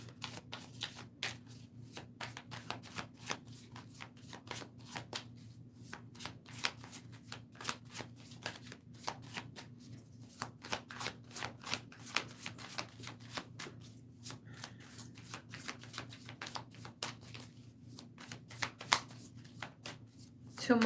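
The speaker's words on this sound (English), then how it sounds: "Two more shuffles." A deck of tarot cards being riffle-shuffled over and over at close range, quick crisp flurries of flicking cards with brief pauses between shuffles.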